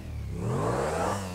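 A motorcycle engine revving in a video game, one smooth rising and falling whine of moderate loudness, heard on its own.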